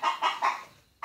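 Hens clucking close by, three quick clucks in a row followed by a short pause and the start of another, clear and alone.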